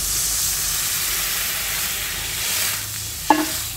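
Steady, loud sizzling and frying of eggplant in a hot pan as hot water is added for a fish and eggplant curry, ending with a brief clatter near the close.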